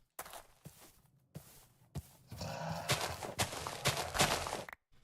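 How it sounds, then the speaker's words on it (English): Minecraft modpack gameplay with a horse nearby, soft hoof thuds and clicks giving way to a louder, busier stretch of game noise and animal sounds, fairly close, with no talking. "it's my horse. Hi, horse."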